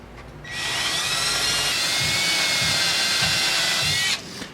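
A power drill whines loudly and steadily for a few seconds, close up, as it bores through a Ludwig drum shell, then stops.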